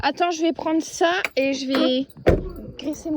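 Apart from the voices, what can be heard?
No everyday noise stands out behind the speech.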